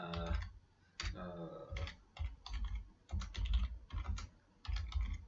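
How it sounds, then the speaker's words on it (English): Computer keyboard typing at an Excel VBA workstation, quick bursts of clicky keystrokes in short runs with brief pauses, close and fairly quiet, no talking. "So I'm going to type in"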